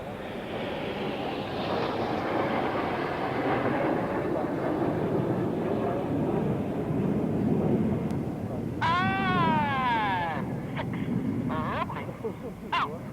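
Red Arrows jets roaring past upside down at the Eastbourne International Airshow, a loud, sustained, broad jet rush that swells and slowly fades, with a few bird chirps or whistles near the end.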